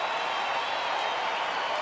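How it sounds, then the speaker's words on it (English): Stadium crowd applause at a baseball game, a steady, dense wash of clapping and murmur held at an even level throughout, with no distinct voices. "and their applause"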